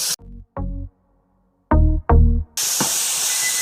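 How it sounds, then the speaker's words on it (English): A few short, resonant clunks, then loud, steady sizzling as a pound of ground beef hits a hot pan, a close crackling hiss with no talking. "I'm gonna throw in all the beef. I have 1 pound, and you can hear that sizzle."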